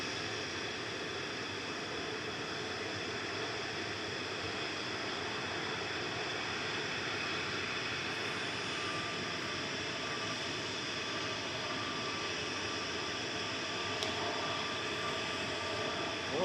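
An airliner prepares to depart Manchester Airport for Paris on the first departure of the day, producing a steady, moderately loud engine rush that stays even throughout, without speech.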